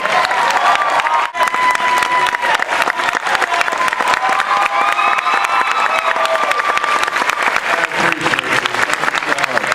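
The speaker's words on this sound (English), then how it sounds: "A warm round of applause for the good Dee Williams, everybody" A comic convention crowd applauds and cheers for Billy Dee Williams, a loud, steady wash of clapping with scattered whoops and shouts running the whole time, plus a brief dip near the start.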